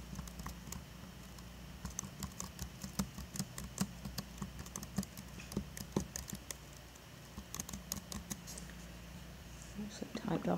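Brisk typing on a computer keyboard while entering a weaving treadling sequence in TempoWeave software, with steady clusters of soft, close key clicks in an even rhythm and a faint voice in the background.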